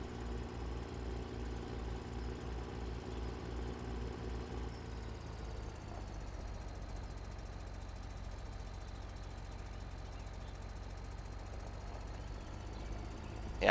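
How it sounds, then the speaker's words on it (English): In Farming Simulator 2013, a tractor engine strains while pulling a disc, a steady mid-pitched drone with a rhythmic chugging that thins out partway through, heard alone at moderate level. "I think this tractor is definitely lacking a little in the power department for pulling this disc"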